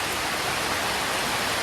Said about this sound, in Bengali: তো ভালোই বৃষ্টি হইতেছে।